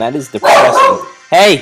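A pet dog barks loudly and close by, a sharp burst between a person's spoken words.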